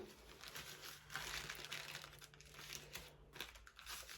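Paper coffee filters rustle and crinkle softly as they are folded by hand, faint close crackling with short pauses between handling.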